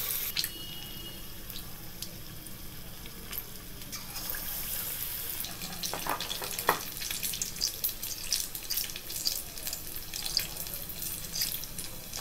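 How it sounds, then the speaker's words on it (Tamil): Egg masala bonda, batter-dipped stuffed eggs, frying in hot oil with a steady, moderately loud crackle and scattered sharp pops, continuous throughout with no talking. "நல்லா ஃப்ரை ஆகட்டும்."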